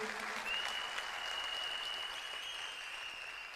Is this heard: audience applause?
yes